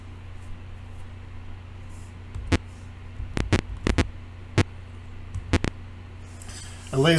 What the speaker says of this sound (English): A loud pulsating hum surges into the room.